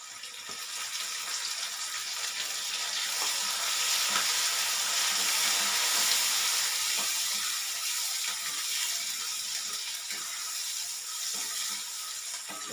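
Onion, dried red chilies, mustard seeds and urad dal crackle in hot oil during a Tamil tempering for chow chow kootu, a constant bright sizzle with faint stirring ticks, no voices.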